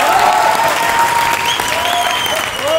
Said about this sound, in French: on peut tous nous et vous applaudir pour ce week-end incroyable